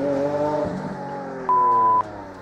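A Lamborghini Aventador LP 704 sports car engine gives off a faint, steady harmonic drone, with a brief higher tone partway through.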